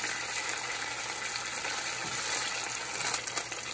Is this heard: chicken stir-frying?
yes